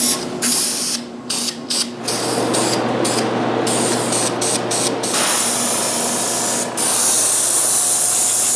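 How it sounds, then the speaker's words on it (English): A spray paint can hisses steadily as another color goes onto a masked wooden nutcracker, a continuous close aerosol rush with a few brief pauses between bursts. "I mask the part that is done and spray another color."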